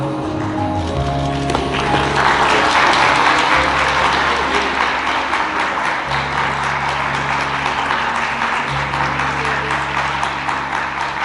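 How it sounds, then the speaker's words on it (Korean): Wedding guests at the CN Convention hall applaud warmly and steadily through a ring exchange, a dense wash of clapping over sustained low musical tones. "예물을 전달하실 때 그 뜨거운 박수를 축하해 주시면 감사하겠습니다"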